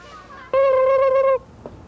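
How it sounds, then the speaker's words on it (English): A turkey in a news segment about Thanksgiving lets out one loud, close, tonal call lasting under a second against a low background hum. "Tom and Tammy are public relations turkeys, so they won't be on the Thanksgiving dinner table."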